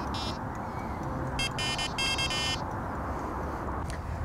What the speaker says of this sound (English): The receiver auto syncs to each of the alarms and to the tone that you've set for each head as well.